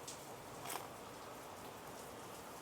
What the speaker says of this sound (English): That rain's coming all sorts of in the garage.